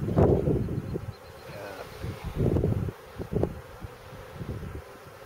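Honeybees buzz around a strong, crowded hive opened for a spring inspection, a steady close drone broken by brief handling noises and light wind, with people talking over it.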